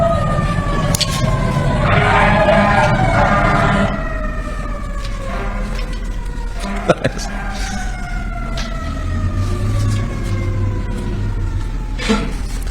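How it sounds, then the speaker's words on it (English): Emergency sirens wail through a played video, their falling tones sweeping again and again behind a noisy room, with a few sharp knocks and voices in the mix. "it doesn't seem as though there's sirens in the video. Those are in the background."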